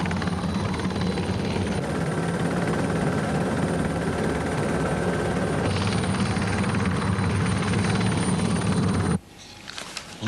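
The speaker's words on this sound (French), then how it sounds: "Mon Dieu, mais qu'est-ce qu'il fout là, cet hélico?" A helicopter flying over an airport runway, a loud continuous rotor and turbine roar with a steady rhythmic beat that holds for most of the stretch, then cuts off abruptly near the end.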